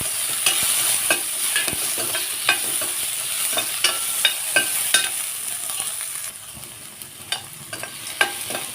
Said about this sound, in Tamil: வெங்காயம் தக்காளி ஒரு பாதி அளவுக்கு வதங்கினா போதும்